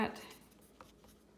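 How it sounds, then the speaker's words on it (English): A pen writes on paper during a math lesson, making a brief, faint scratching of a few quick strokes that fade within a second or so. "So I'm going to write down any quadrilateral"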